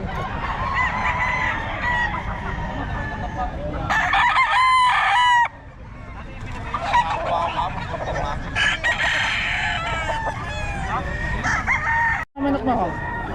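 A rooster crows loudly and close by, with other fowl clucking and honking around it in a busy yard.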